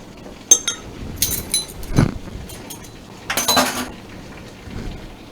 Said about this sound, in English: And then we're mixing it all up.